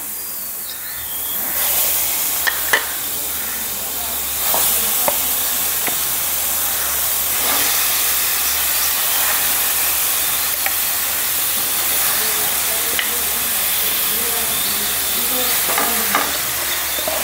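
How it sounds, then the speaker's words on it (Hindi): Steady loud sizzling of chicken pieces frying in a pan over a low flame, with occasional stirring clicks and scrapes over the continuous hiss, close by. "आतां हांव तें फ्राय करूंक घातां"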